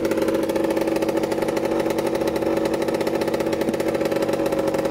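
A little 90cc two-stroke dirt bike fitted with a Yasuni exhaust pipe idles steadily nearby, a loud, even buzzing putter with a fast regular pulse and no talk over it.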